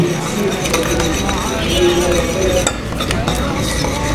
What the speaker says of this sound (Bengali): আমি এখন 2 চামচের মতন তেল দেব, সাদা তেল দেব। মিক্স করে নেব।